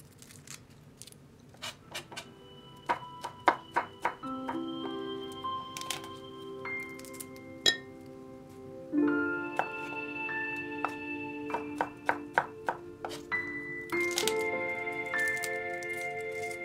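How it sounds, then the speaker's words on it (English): A knife on a cutting board cuts and minces three garlic cloves in irregular, crisp taps and clicks, some in quick bursts, over faint sustained background tones. "I'm going to cut 3 cloves of garlic and minch the garlic"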